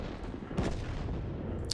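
A tank cannon fires once mid-clip in World of Tanks, a short booming shot over a steady rumble of game noise, with no talk.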